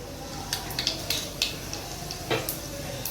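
Mustard seeds and cumin crackle in hot oil, with faint sizzling broken by scattered sharp pops and a few utensil clinks, fairly quiet and close, with no one speaking.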